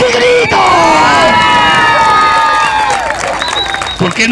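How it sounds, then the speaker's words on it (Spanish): An audience at a Mexican clown show shouts and cheers loudly and continuously, with children's voices rising above a dense crowd roar and scattered clapping underneath. "¡Aplausos y gritos!"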